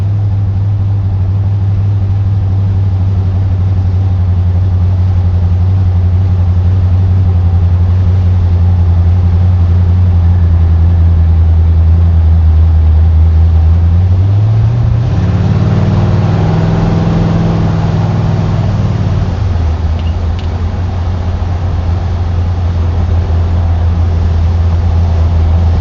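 A small 1980s truck engine drones steadily while driving, then revs up hard with a rising, rougher roar before settling back to a low, even hum.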